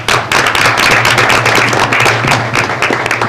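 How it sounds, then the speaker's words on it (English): A city council meeting room erupts in close, loud applause, a dense patter of many hands clapping steadily for a few seconds above a faint low hum. "Let's give them a good round of applause."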